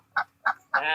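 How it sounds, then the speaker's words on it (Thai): A duck gives three short, loud quacks close by, the last one drawn out a little longer, with no other sound around them. "เป็ดกาบ"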